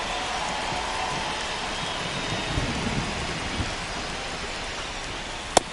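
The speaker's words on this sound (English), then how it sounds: "It feels like we might be headed towards a rain delay if the weather doesn't ease up, Chris." Steady rain falls across a ballpark during a game in MLB The Show 25, a constant hiss of rainfall with a faint distant rumble and one sharp crack near the end.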